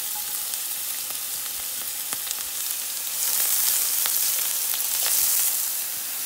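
Chopped onion, ginger, garlic and green chili fry in a hot pan with a dense, crackling sizzle that swells louder midway, punctuated by light scattered pops and stirring clicks, no voices.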